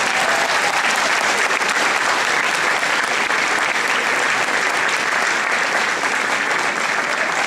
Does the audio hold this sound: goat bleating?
no